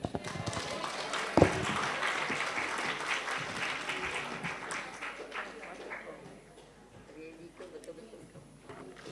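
Audience applause after a presentation at a conference plenary session: a dense, steady wash of clapping that holds for several seconds, then thins and fades toward the end.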